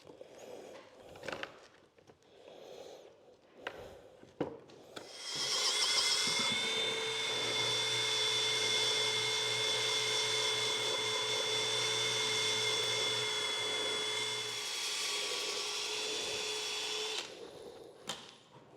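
A DeWalt power sander works a natural-edge turned wood piece with punky, torn-out grain. After a few knocks, a steady high whine runs for about twelve seconds and then cuts off.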